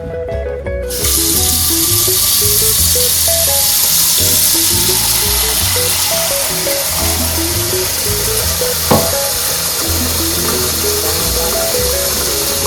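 Tap water pours steadily into a cooking pot for Korean stock, a loud continuous rushing gush that starts abruptly and runs unbroken, with faint music beneath.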